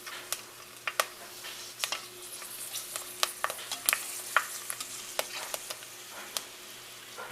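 Pork skins fry in hot grease, giving a soft continuous sizzle dotted with sharp, irregular pops and crackles up close, with no talking.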